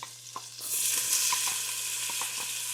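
Chopped onion hits butter and olive oil in a soup pot and bursts into a strong sizzling hiss that holds steady, with soft taps from a spoon and a low steady hum underneath.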